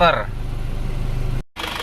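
A car engine with a freshly overhauled motor idles after a 40 km test drive, a steady low hum throughout that cuts out briefly near the end. A short voice-like sound is heard at the start.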